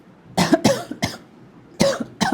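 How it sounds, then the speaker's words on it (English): Short, close coughs break out in a quick cluster of three, followed after a pause by two more, each one a harsh burst from a single person with no other sound around it. "pardon my coughing"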